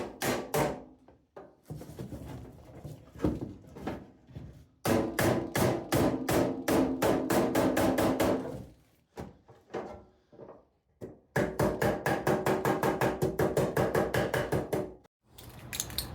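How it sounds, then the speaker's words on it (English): Repeated hammer blows on a metal toolbox, beating out dents in bursts of rapid, evenly spaced strikes with short pauses between volleys; loud and close, no talking. "We'll just keep working at the dents."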